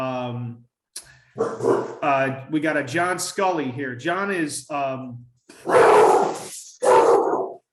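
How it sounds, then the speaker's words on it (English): A dog barking a few times in the background during a hockey fantasy draft talk, heard as short loud bursts near the end after someone talking. "sorry for the dog."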